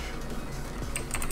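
A few quick keystrokes tap on a computer keyboard over a low background hum, soft and close.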